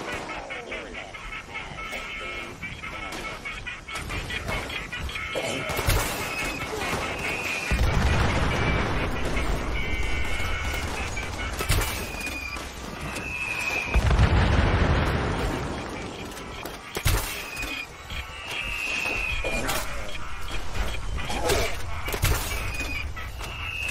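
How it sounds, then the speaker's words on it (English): Mini nuke explosions go off repeatedly during a Fallout 76 multiplayer event on Xbox One, as heavy booms and rumbling blasts swell in two louder bursts over a dense, continuous din of game noise. "Who is this guy going haywire with mini nukes? There's explosions everywhere."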